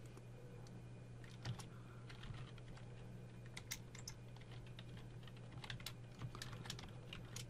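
Computer keyboard typing in a quiet room, with a steady run of light, irregular key clicks over a low electrical hum, close and fairly soft, with no talking.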